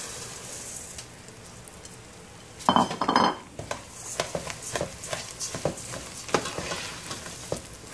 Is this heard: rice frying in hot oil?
yes